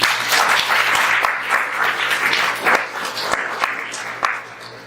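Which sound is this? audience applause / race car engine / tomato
audience applause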